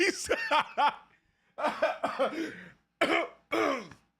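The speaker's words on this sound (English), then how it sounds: "I had a hiccup and I coughed" Several short, harsh bursts in quick succession, a cough mixed with throat-clearing, close up, with brief pauses between groups of bursts.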